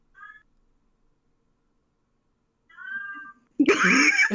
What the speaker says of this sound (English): I can hear your cat.